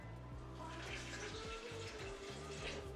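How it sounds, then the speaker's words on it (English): Hot water poured into a Bali-inspired recipe in a kitchen, a soft continuous liquid trickle at low level under a faint steady background hum. "Now I'm going to add a little bit of hot water"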